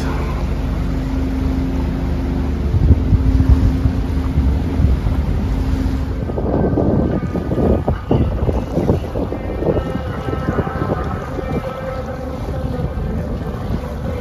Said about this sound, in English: Row of boats coming out.